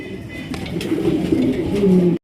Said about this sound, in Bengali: চমৎকার এক জোড়া আপনার আকাশি কালারের রাজগোল্লা কবুতর নিতে পারবেন